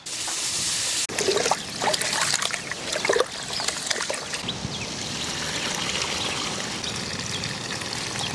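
Rice being rinsed by hand in a vessel of water while preparing Dindigul-style chicken biryani: steady splashing, pouring and trickling close by, with a couple of sharper sloshes early on and no talk.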